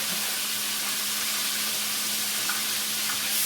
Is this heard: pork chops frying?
yes